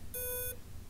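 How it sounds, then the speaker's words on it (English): An Xplova NOZA S smart bike trainer gives a single short, high electronic beep, clear and close, with no one talking. "But if you've got one of these units and you're hearing a, it's not your fire alarm."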